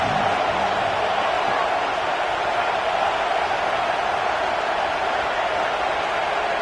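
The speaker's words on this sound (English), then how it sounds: "Here comes the noise from this big crowd in Happy Valley on 3rd down." A huge college football stadium crowd at Penn State's Happy Valley roars on third down, a dense, continuous wall of crowd noise at steady high loudness throughout, with no distinct voices standing out.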